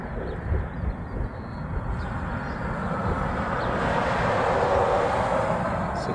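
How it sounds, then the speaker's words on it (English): A departing airliner during plane spotting at an airport with Korean Air 747 and A380 traffic, heading off toward Lihue, gives a steady broad jet roar that holds and swells gently throughout, with no talk. "So that plane there was heading off to Lehue."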